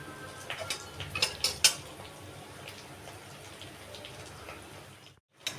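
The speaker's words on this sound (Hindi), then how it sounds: "अब हम इसमें तिल भूनेंगे।" Black and white sesame seeds being roasted in a pan on low heat, a few light metallic scrapes and clinks of a utensil against the pan, quiet and close, ending in a brief silence.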